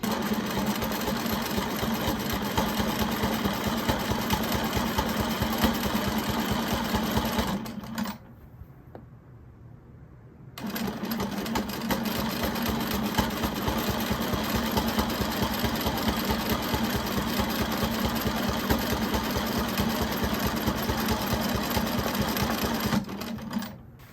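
A sewing machine stitches a quilted circle in a steady rapid chatter, running continuously, pausing for a few seconds, then resuming at the same pace, close and clear with no talking.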